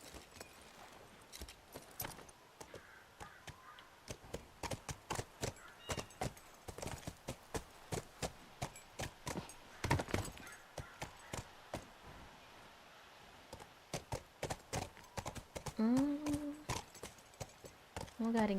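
Steady clip-clop of horse hooves walking at an even pace in a Nintendo GameCube video game, crisp and close, with a brief whinny near the end.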